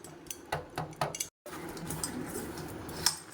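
Cooked food is poured and scraped onto a metal plate to cool, producing a series of metallic clinks and taps, a short pause, then softer scraping with another bright clink near the end.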